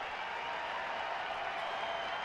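Big baseball stadium crowd at a Cardinals at Nationals game, a steady broad wash of distant cheering and applause from thousands of fans, even in level throughout the short stretch.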